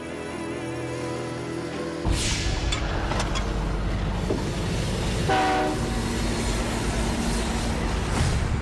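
A locomotive rumbles closer along a railway track, its low engine drone swelling in after a quiet start, with horn tones and clickety-clack of wheels over the rails, loud and continuous.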